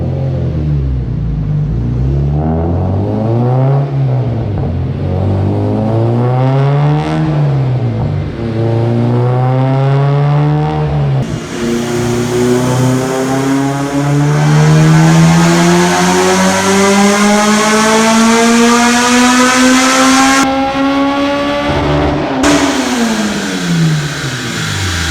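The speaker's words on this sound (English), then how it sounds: "now he's going to start it up, and we're going to run it on the dyno" A supercharged Acura RSX Type-S engine runs on a dyno, revving repeatedly, then climbing in one long loud pull to high rpm before dropping back, close and continuous with no talking.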